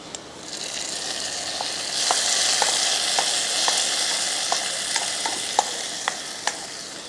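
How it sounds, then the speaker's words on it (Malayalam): A hot ghee tempering goes into a vegetable curry, producing a rising sizzle that swells then settles into a steady hiss, punctuated by sharp pops and light spoon clinks close by; no speech. "നമുക്ക് അടപ്പ് മാറ്റിയിട്ട് താളിച്ചത് അങ്ങോട്ട് ഒഴിച്ചു"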